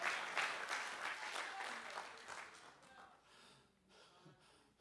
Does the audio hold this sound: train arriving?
no